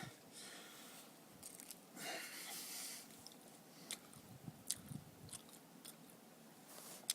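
Someone eats food outdoors in the snowy mountains, quiet close chewing with soft squishy and crunchy bites, scattered short clicks and a steady wash of wind or ambient hiss behind, no speech.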